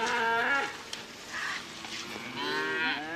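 Cattle in an oak woodland lowing, two long drawn-out moos a couple of seconds apart, moderately distant and clear against a quiet outdoor background.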